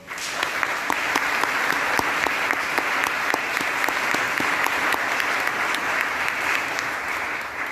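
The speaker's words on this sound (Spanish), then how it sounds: "Oscar Betuel, también Elena Zaffaroni, para quienes pido un fuerte aplauso" Steady audience applause fills a concert hall during a commemoration event for the International Day of the Disappeared, many hands clapping densely and loudly without pause throughout, with no talk over it.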